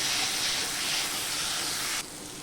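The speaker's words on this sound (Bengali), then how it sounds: "এখন একটু ভেজে নেব।" Soaked lentils sizzle and fry in a hot pan for a vegetarian papaya dish, giving a loud, steady hiss that holds for about two seconds, then drops slightly in level.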